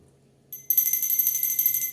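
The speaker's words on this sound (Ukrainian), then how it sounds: "Лунає дев'ятий дзвоник." After a moment of near silence, a bell starts ringing for the ninth time in a memorial ritual, a bright, sustained, rapidly trilling ring that stays loud and steady.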